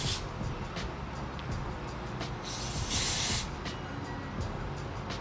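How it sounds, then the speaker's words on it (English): Hairspray misted along the hairline of an HD lace frontal wig, a close continuous hissing spray with a stronger burst in the middle and no talking. "gonna take my hairspray. I really love even. I'm just gonna go all along my hairline with it."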